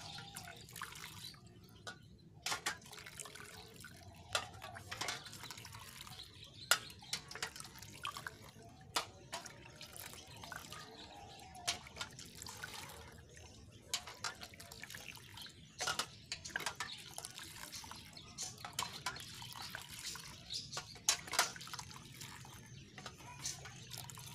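Water is poured over a rifle barrel to soften glue, trickling and dripping irregularly at close range, with scattered splashes over a quiet background.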